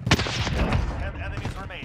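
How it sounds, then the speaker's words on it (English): Gunfire during a Call of Duty Warzone match, including a sniper rifle shot, loud and dense with overlapping shots and booms, while players talk excitedly over it. "Did they get him? You sniped him"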